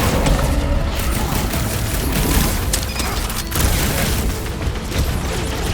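Gunshots fired at robots in Guardians of the Galaxy, a dense, continuous barrage of booming blasts and crashes with no breaks across the whole stretch.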